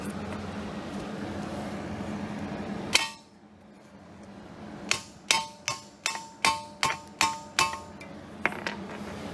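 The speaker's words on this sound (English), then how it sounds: "Then you just tap it, and you can start seeing it go inwards." Hammer tapping a CV shaft inward on a 2003 Mini Cooper 1.6 L: after a stretch of rough background noise, about eight close, sharp metallic strikes land in a fairly even rhythm, each ringing briefly.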